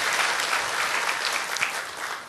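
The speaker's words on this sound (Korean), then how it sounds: "우리 한영의 박수 다 같이 드리도록" Church congregation applauding during a Sunday worship service, a dense, steady wash of clapping heard alone for a couple of seconds, fairly loud and close.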